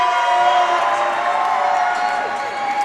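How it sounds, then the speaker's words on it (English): Basketball crowd at a women's league game getting loud in support of the Giants, a sustained roar of cheering and whooping from a packed arena with faint clapping, steady throughout with a tonal horn-like drone running underneath. "The crowd getting loud in here"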